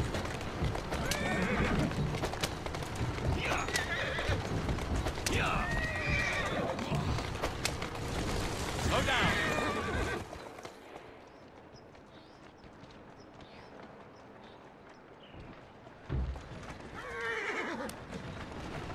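Video game horse sounds: repeated whinnies and neighs over a busy bed of clip-clopping hooves, loud and close for the first half, then quieter hoofbeats with a final neigh near the end.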